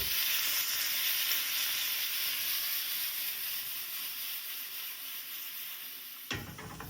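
Onions sizzling in a pan while scallops are being prepared give a loud, continuous hissing fry up close. It eases slightly over several seconds, and then a sudden clatter is heard near the end.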